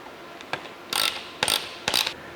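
A ratchet clicks in three short bursts while screws are tightened on skid vanes of a C8 Stingray front splitter, close and crisp with pauses between strokes.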